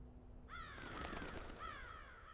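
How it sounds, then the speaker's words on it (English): Several crows cawing under a cold February sky, with a loud burst of harsh overlapping caws in the middle and another call near the end over faint background. "Outside, crows scatter into a cold February sky."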